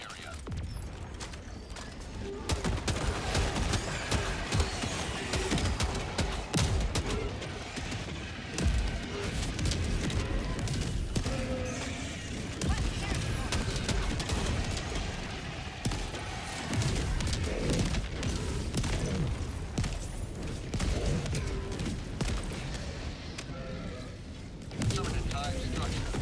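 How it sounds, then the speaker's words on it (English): Orbital barrage explosions in Helldivers 2 keep booming and crackling in dense, continuous bursts for the whole stretch, loud and chaotic, while people talk over the din. "Firing orbital barrage, clear the area."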